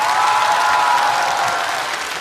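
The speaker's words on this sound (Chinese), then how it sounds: "再次把掌声献给所有的观众以及漫才兄弟。" Audience applause at a stand-up comedy show, a dense, even wash of clapping from a large crowd, loud and sustained throughout without breaks.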